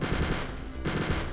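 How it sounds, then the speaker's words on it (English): A machine gun in Wolfenstein 3D fires a rapid, continuous burst of shots into a wall, loud and close, with a brief dip in the middle before the stream of fire resumes. "Firing lots of bullets into the wall."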